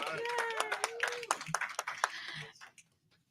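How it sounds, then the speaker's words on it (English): An audience claps at a Miami county event honouring the mayor, a brief burst of scattered hand claps under a speaker's voice that fades out after a couple of seconds. "Yes, you can clap."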